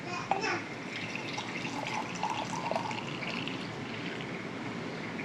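Boiling water pours steadily into a mug, a continuous close splashing trickle with a brief clink at the start.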